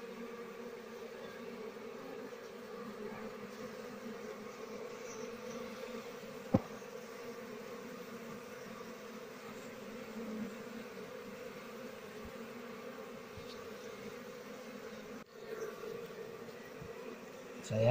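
Apis cerana honeybees buzz in a steady, moderately loud drone as a comb is lifted from their nest in the morning, with a few brief knocks and handling noises along the way.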